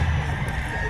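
Chickens and roosters at an open-air poultry market behind SM City Lipa in Batangas cluck and call in a dense, noisy chorus over a brief moment, with crowd din in the background.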